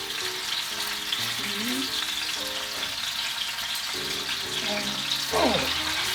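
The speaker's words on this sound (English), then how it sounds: "The rouladen are in the pan. Now they have to be browned on all sides." Rouladen sizzling in a frying pan, a steady bright hiss throughout with a short spoken count over it.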